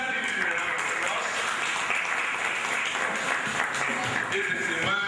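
Audience applause at a book launch, a continuous loud clapping roar lasting several seconds with voices faintly mixed in.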